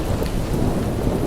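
Thunder rolls low and steady under a dense, loud downpour of heavy rain, continuous and close throughout with no pause.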